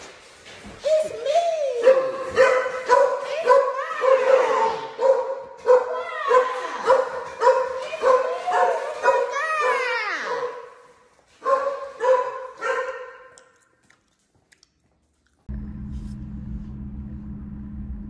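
Several dogs bark and yip in quick, uneven bursts close by, with short whimpers in between. The barking stops, leaving a brief quiet, and then a steady low hum follows.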